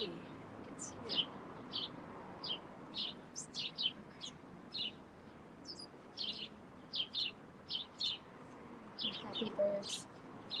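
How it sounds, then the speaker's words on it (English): Birds chirp in short bright bursts during an outdoor Christmas and New Moon holy fire homa, a scattered run of tweets over a soft steady background hum. "Happy birds."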